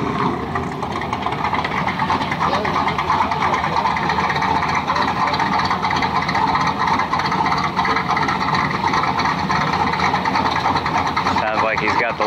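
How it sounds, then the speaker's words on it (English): An old cam pushrod car engine idles with its lake pipes open at a neighborhood car show, a steady loud burbling rumble close by for the whole stretch, with people talking over it. "Sounds like he's got the lake pipes open."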